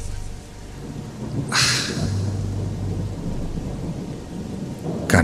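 Heavy rain pours down steadily as a radio-drama effect, broken by two loud thunder cracks, one early and one at the very end.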